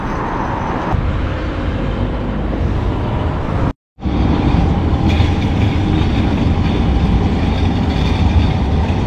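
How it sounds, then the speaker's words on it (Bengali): An Oslo tram rumbles past on a city street, a loud, close rolling drone with faint clatter that drops out briefly and then surges back, set among surrounding traffic. "এই হচ্ছে অসলোর ট্রাম"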